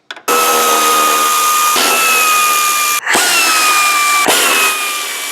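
Power tool loosening the 10mm battery tray bolts on a 2.4L Chrysler PT Cruiser, a loud, close, continuous high-pitched whine with brief dips and restarts between bolts.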